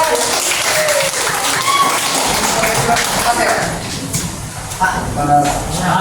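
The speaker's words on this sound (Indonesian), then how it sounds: "Oke, tepuk tangan buat semuanya." A classroom of students claps for everyone during a teaching session, a busy patter of applause mixed with chatter and voices talking over it.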